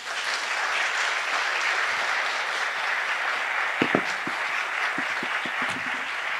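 Audience applause for poet Tayi Tibble at an evening of international poetry, a steady wash of clapping throughout, fairly loud and even, with a few brief low thumps near the end.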